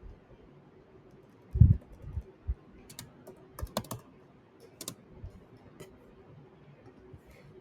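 Typing on a computer keyboard during a Logo programming session, a few soft, scattered key clicks with short gaps between them, faint and close.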